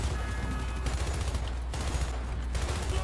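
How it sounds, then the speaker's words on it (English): Rifle fire in the shooter game Hypercharged: Unboxed comes as sustained rapid bursts with brief pauses between volleys, loud and close with no talking. "And here's our first enemy type, and this is our rifle."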